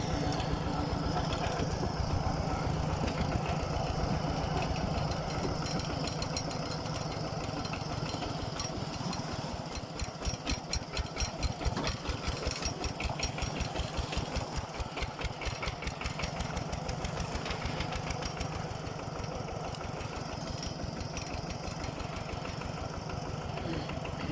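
A rice planting machine's small engine runs continuously in a paddy field, a steady chugging drone with rapid rhythmic knocking pulses that thicken in the middle, fairly close and without talk.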